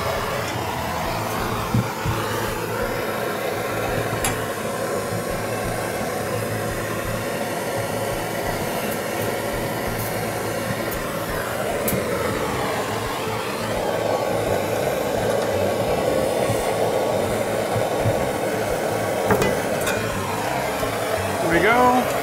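A gas torch roars steadily up close while heating a solder joint on a brass shower valve pipe, a continuous hissing rush that shifts slightly in tone as it plays over the fitting.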